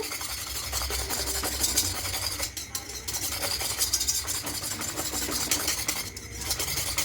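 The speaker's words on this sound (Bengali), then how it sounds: "এবার হ্যান্ড উইচটা করে মেশালে খুব ভালো করে দুধটা মিশে যাবে" A hand whisk stirs powdered milk into lightly warmed water in a kitchen. It makes a continuous scratchy, rasping swish at a steady rhythm throughout, close up and fairly loud.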